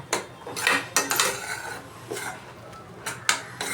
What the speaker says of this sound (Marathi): अशा प्रकारे मसाला चांगला परतून घ्यावा